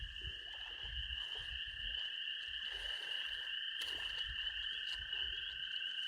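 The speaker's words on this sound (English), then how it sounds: "Can you guys hear the peepers, the frogs?" A chorus of spring peeper frogs calls continuously at a distance, high piping notes blending into a steady shrill drone over quiet outdoor ambience.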